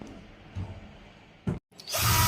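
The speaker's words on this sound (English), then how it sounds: "Just remove the screws." Screws are backed out of a Samsung washing machine being repaired for a no-power fault, giving short, quiet whirring tool bursts with a brief gap, then a louder, brighter burst at the end.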